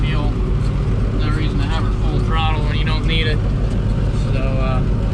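A Claas 820 forage harvester engine idling in a clover and alfalfa field, a steady low rumbling drone heard from inside the cab, with someone talking over it.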